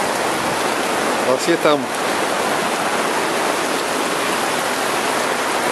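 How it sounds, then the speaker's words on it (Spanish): Strong wind and rain roar as a steady, loud broadband wash during a stormy fishing outing, with a brief burst of voices partway through. "El viento, no para de revolillar."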